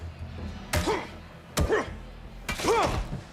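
Baseball bat strikes in the video game Days Gone, three heavy thuds spaced about a second apart, each followed by a short grunting vocal tail over low background noise.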